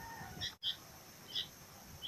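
High, thin calls of sooty-headed bulbul chicks repeat a few times in short chirps against a quiet background, fairly faint and spaced apart.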